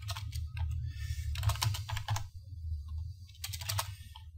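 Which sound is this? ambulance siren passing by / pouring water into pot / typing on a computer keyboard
typing on a computer keyboard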